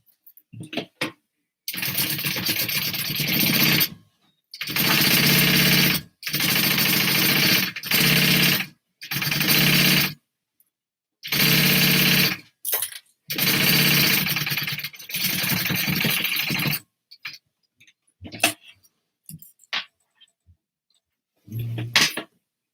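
A sewing machine stitches a vinyl handbag pocket shut in several loud bursts of whirring with short pauses between them, followed by scattered faint clicks and handling noises.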